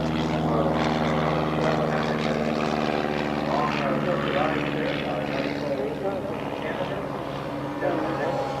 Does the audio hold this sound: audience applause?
no